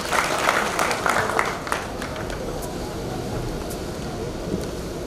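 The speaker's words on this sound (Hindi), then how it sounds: "एक बार जोरदार तालियां हो जाए" Enthusiastic audience applause at a jewellery fashion show in Udaipur. Dense clapping fills the first second and a half, then eases into a broad crowd rumble with occasional claps, likely with background music or hubbub.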